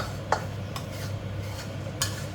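Sliced lemongrass, shallots and garlic being stirred in a pan, with a few sharp scraping clicks of the utensil against the metal over a low, steady background hum.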